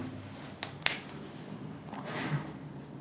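Writing on a board during a classroom maths lesson. Two sharp taps are followed by faint scratchy strokes, close and quiet, with no talking.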